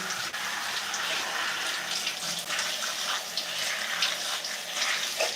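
Tap water runs steadily while product is rinsed out of curly hair, a continuous close splashing stream with small shifts as the flow hits hair and hands.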